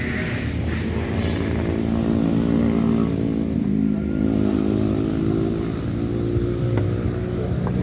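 Motorcycles pass on a road beside Situ Cileunca lake in Pangalengan, heard during a boat outing as a steady, fairly loud engine drone that swells and fades slightly across the whole stretch, with no talk.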